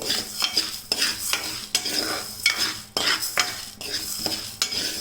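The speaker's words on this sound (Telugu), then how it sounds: "ఇప్పుడు ఇందులోకి ఉలవలు వేసుకుందాం వీటిని కాసేపు రోస్ట్ చేద్దామండి" Horse gram and chickpeas are roasted dry in a pan, stirred in quick repeated sweeps that make a rattling, scraping rush of dry grains every half second or so, close and steady with no voices.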